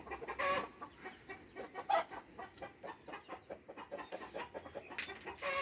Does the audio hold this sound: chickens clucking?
yes